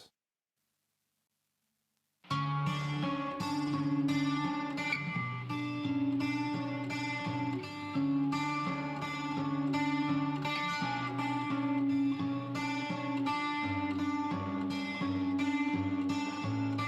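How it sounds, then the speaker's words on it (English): Strummed acoustic guitar drenched in effects, full and sustained with shimmering chords, starting after about two seconds of silence and playing steadily to the end. "So we basically do the same thing with an acoustic guitar"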